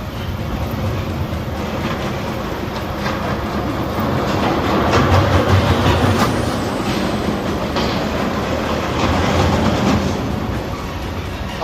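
A roller coaster train running at Six Flags Over Texas, a loud rolling rumble with rattling and clattering from the track that swells in the middle and eases off toward the end.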